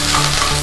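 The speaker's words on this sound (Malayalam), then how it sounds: "ഇഞ്ചി വെളുത്തുള്ളി നമുക്കൊന്ന് നന്നായി സോട്ട് ചെയ്ത് എടുക്കാം." Ginger and garlic sautéing in hot coconut oil, a loud, dense sizzle with stirring scrapes, close up and continuous through a brief moment, no voices.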